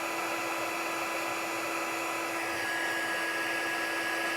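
A heat tool blows steadily to melt embossing powder on paper during card-making, giving a continuous, even whirring hiss with a faint pitch shift partway through and no talking.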